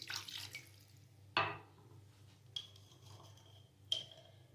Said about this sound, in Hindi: और 1 कप ही पानी डालेंगे।